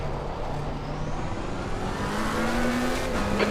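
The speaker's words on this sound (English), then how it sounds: "There's a car exiting the pits now." A race car leaves the pits at Spa Francorchamps in a racing game, its engine a steady droning whine that rises slightly in pitch, heard continuously under general track noise.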